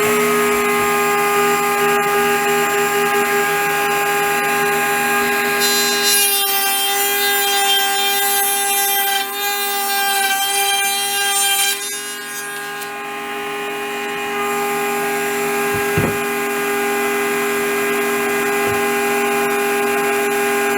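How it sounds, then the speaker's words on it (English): Router cutting wooden pieces for oversized barn doors, a loud steady high-pitched whine running the whole time, with a harsher cutting stretch in the middle as the bit bites into the wood. "I'll route off that piece and go from there."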